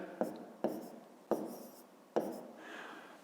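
A pen writes on paper in four sharp taps followed by short scratching strokes, close and quiet, during a fifth-grade maths exercise.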